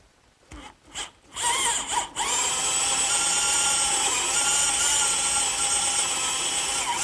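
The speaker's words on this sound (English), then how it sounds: "I've just drilled the holes for my bolts." A power drill bores bolt holes through the cross braces of a wooden garden swing, starting with a few short whirring bursts, then running at a steady loud whine for several seconds.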